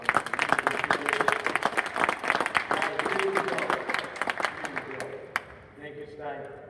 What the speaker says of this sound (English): I want to clap the hands for these guys